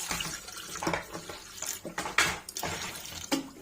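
Water poured from a container into an eggplant pickle mixture, a close, uneven splashing trickle with small bursts and light container knocks.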